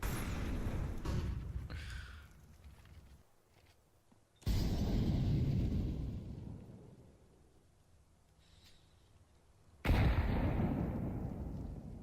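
Grenade blasts in a Counter-Strike match: two loud, broad booms strike about six seconds apart, each fading into a rumbling tail, with a softer burst of noise opening the stretch.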